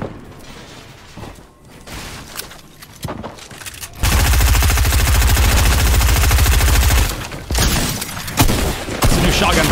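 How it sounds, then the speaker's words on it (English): Rapid gunfire in the video game Fortnite, a dense sustained burst of shots lasting several seconds amid scattered earlier shots and game sounds, loud and close. "It's a new shotgun, brother."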